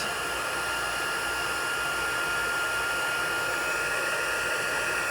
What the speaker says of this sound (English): I'm going to use my heat tool to emboss